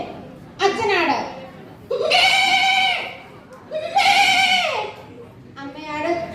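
A person voices a series of goat bleats, imitating a father goat, then a mother and a baby goat: four drawn-out quavering calls, near and loud, the last higher and shorter.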